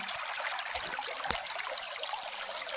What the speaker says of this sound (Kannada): ಹಚ್ಚ ಹಸಿರು ಜುಳು ಜುಳು ನೀರಿನ ಶಬ್ದ